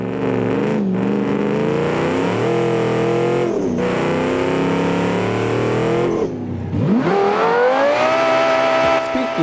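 A 1982 Viper concept car in the Automation game accelerates hard, its loud engine note climbing steadily through the revs, dropping at each gear change and then rising again.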